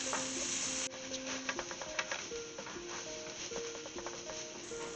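Mushrooms and garlic cook in a pan with a steady broadband sizzle, broken by light stirring scrapes and utensil clicks throughout.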